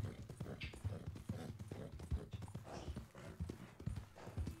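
Horse hooves clip-clop steadily at a gallop in the Red Dead Redemption video game, a rapid repeating rhythm close by, running throughout under speech.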